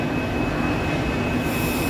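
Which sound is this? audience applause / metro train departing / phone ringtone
metro train departing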